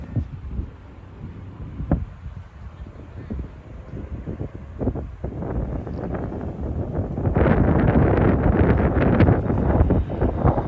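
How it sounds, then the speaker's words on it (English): Gusty wind buffets the microphone in low, rumbling bursts at the dry moat of a hilltop fort in Halifax, growing stronger and more continuous in the second half, with no voices. "And windy up here."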